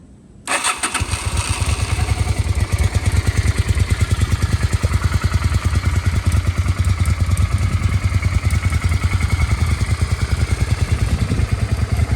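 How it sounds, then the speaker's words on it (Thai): A Honda Shadow 400 Classic motorcycle engine cranks and fires up after a brief quiet moment, then settles into a loud, steady, close-up idle with a rapid, throbbing beat that continues to the end. "เดี๋ยวเราลองสตาร์ทเครื่องให้ฟัง"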